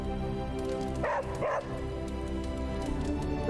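A dog in a video game gives two short bow-wow barks in quick succession, close and moderately loud over a steady game music and ambient bed, then the background continues alone.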